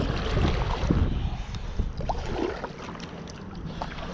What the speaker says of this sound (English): And you just dip a paddle in, just like that.